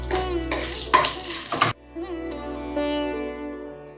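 Urad dal dropped into hot tempering oil over a low gas flame, bursts of sizzling and spluttering with spoon stirring scrapes, the frying settling to a quieter crackle after the first second and a half.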